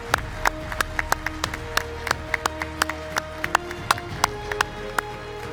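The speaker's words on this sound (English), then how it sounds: "Let's applaud them." Audience at an awards ceremony applauding, with sparse, scattered individual claps in an uneven rhythm that stays thin rather than building to a full roar.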